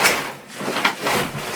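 Cardboard packing dragged out of a box holding a 2020 Calibre Bossnut mountain bike, a close, dry rustle and scrape that swells and fades in a few uneven pulls with no talk.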